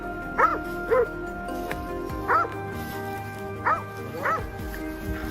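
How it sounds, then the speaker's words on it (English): Hunting dogs on a wild boar hunt barking in five loud, evenly spaced single barks, near and echoing over a low steady background hum. "the hunting dog's loud barks echoed"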